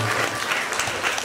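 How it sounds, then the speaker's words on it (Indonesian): A small audience of women and men at a garment makers' and traders' meetup bursts into brief, dense applause, a short wash of many hands clapping at once. "Wah, tepuk tangan."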